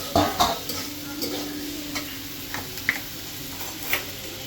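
Fish-head and vegetable dish frying and being stirred in a pan, soft sizzle with scattered scraping and tapping clinks of a utensil against the pan, close and moderately quiet, no talk.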